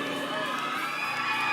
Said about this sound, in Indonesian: Oh, kita dengar sorakan dahulu.